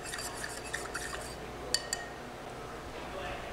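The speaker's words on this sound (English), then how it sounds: "Stir it up." A cocktail stirred in a glass, soft swirling with faint clinks of ice and a couple of sharper taps against the glass, quiet and close.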